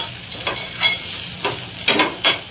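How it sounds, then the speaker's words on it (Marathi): Red chutney masala paste fries in a pan for a Malvani mackerel curry, giving a steady soft sizzle broken by several short, brighter scraping bursts as the paste is stirred, with no talking. "लाल चटणी चांगली व्यवस्थित भाजून घ्यायची."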